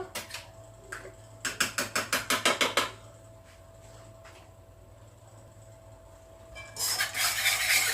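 Apple cake batter with yogurt being beaten in a bowl, with a fast run of rhythmic clacks from the whisk, a quieter stretch, then more vigorous mixing at the end.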